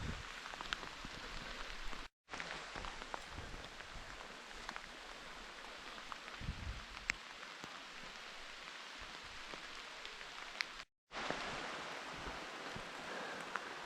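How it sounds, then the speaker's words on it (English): Heavy rain falling on trees in a garden, a dense steady hiss of drops pattering on leaves and surfaces, continuous apart from two brief cuts to silence. "You can hear the sound of that rain. It's just so heavy now, it's almost thunder-like."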